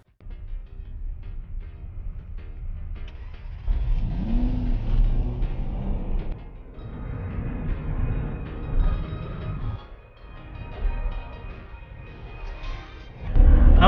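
A two-door Jeep JK fitted with a Teraflex lift kit and Falcon shocks pulls away and drives, its engine rumbling and rising in bursts with road and cabin noise, ending in a louder surge.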